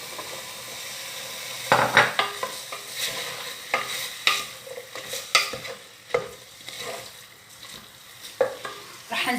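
Chickpeas tipped into a pot of tomato sauce and stirred, giving a run of close, uneven scraping and knocking spoon strokes over a soft sizzle.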